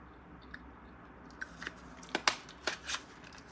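A cosmetics product package being opened: a few sharp snips and crinkly plastic crunches, close and fairly quiet, bunched toward the end after a near-silent start.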